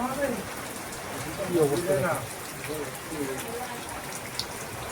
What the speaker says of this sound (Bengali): দেখো উপরে চালে মনে হয় পাতা ভর্তি হয়ে গেছে, জমে গেছে, তার জন্য এই জল লিক করছে এখান থেকে